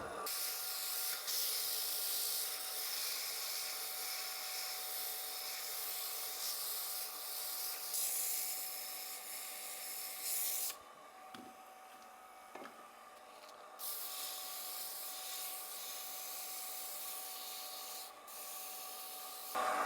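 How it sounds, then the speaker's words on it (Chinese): Steady, close rasping of 240-grit sandpaper against a turning wooden high round stool, continuous with a brief quieter pause midway, no speech. "接下来我们用240的去打磨。"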